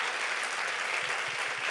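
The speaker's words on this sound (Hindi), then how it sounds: "अब जबरदस्त ताली बजाइए" Brief burst of dense clapping from a church youth camp congregation, steady and fairly loud throughout with no talk over it.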